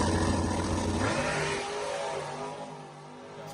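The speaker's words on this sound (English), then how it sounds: "Sounds like I got a 5-speed in there slipping." A car with a 5-speed transmission that is slipping runs on a daytime pass, its engine note surging unevenly and then easing off as it recedes, with no one talking.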